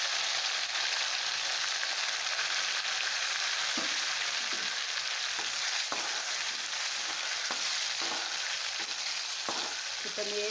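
Finely chopped tomato sautés in hot oil for a bell pepper dish, a loud continuous sizzle with scattered spoon-against-pan clicks and scrapes throughout.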